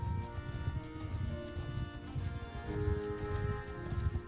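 Horse hooves clip-clop in a steady walking rhythm in Mount and Blade Bannerlord, faint and continuous under a low ambient game soundtrack.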